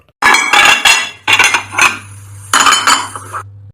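Dishes and cutlery clatter and clink in three bursts of handling, close and fairly loud, with a low steady hum underneath.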